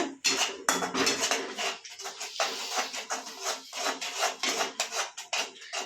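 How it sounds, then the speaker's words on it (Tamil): A metal spoon stirs eggplant pieces with salt in oil in a pan, giving close, uneven scraping and clinking strokes in an irregular rhythm with no voices. "இப்போ உப்பு போட்டுக்கிறோங்க கத்திரிக்காய்க்கு தேவையான உப்பு போட்டு அதையும் சேர்த்து நல்லா மிக்ஸ் பண்ணி விடுறோங்க"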